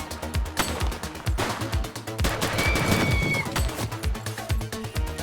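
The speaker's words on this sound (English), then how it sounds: "the M16 does do well. Shots fired!" Rapid M16 gunfire in The Precinct video game, bursts of sharp loud shots in quick succession with a brief tonal whine in the middle, fairly close and dense throughout.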